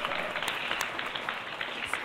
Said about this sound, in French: Veuillez applaudir le bout en train